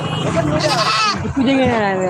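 A goat bleats loudly close by, a wavering nasal cry, while people talk over it.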